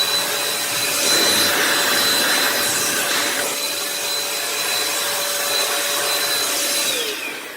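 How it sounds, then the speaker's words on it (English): A DataVac ED500 electric duster blower runs continuously at close range with a loud, steady airy roar and a high motor whine, then cuts off at the end. "This is the blower itself."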